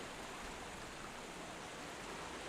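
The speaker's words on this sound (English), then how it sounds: "we're getting washed down a waterfall" Faint, steady hiss of rushing waterfall water in a Pokémon video game, an even wash with no breaks and no voices.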